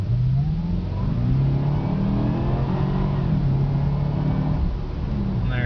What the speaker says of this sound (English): See, the car does pick up pretty good.